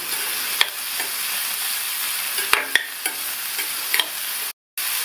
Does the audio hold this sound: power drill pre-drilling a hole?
no